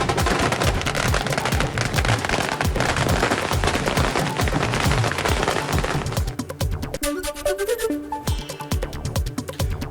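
Rapid crackling bursts of fireworks going off at a police station celebration in Maharashtra, in a dense, continuous barrage, followed by a busier mix of pops and background noise near the end.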